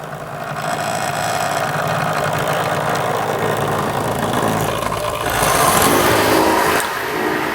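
A motorised chassis fitted under a model train engine runs steadily with a continuous mechanical whir, a little louder and brighter near the end before easing off.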